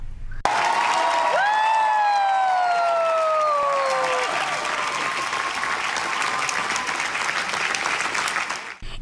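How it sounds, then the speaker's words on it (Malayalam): Sustained applause from an audience fills the hall at the end of a Cannes film premiere screening, dense clapping that swells then holds steady, with a few faint whistling tones early on. "എട്ട് മിനിറ്റോളം നീണ്ട കയ്യടിക്കൊടുവിലാണ് കാനൽ സിനിമയുടെ ആദ്യ പ്രദർശനം അവസാനിച്ചത്"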